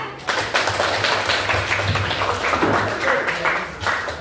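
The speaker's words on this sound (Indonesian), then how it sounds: "Beri tepuk tangan buat kelompok 3" A class of students applauds group 3 in a classroom, a steady wash of clapping that starts suddenly and carries on evenly for several seconds. The sound is loud and close, filling the room.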